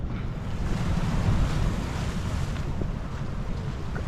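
Sea waves wash steadily onto a beach where a river flows into the sea, a continuous broadband surf roar mixed with wind buffeting the microphone, with no voices.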